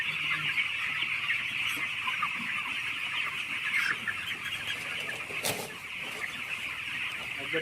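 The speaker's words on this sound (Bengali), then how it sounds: "সব খাওয়ার জন্য ডাকছে পাখিগুলো।" Chickens on a village poultry farm cluck and call continuously, a dense flock chorus close by, with a brief flap or clatter partway through and faint background noise.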